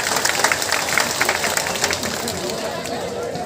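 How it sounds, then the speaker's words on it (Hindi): A crowd at a political rally in India breaks into applause, dense clapping near and loud that gradually thins, with crowd noise underneath. "स्वागत करें तालियों के साथ।"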